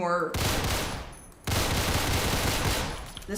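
A gun in a first-person shooter video game fires in rapid automatic bursts, loud and dense, with a short gap before a second sustained volley.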